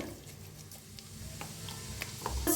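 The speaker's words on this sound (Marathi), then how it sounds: "छान जिरं मोहरी भाजलेली आहे" Cumin and mustard seeds sizzle in hot ghee and oil, a quiet crackle with scattered small pops that grows louder and busier toward the end, where a sharp clatter cuts in.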